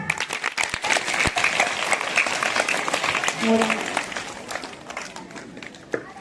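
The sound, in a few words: audience clapping after a children's school skit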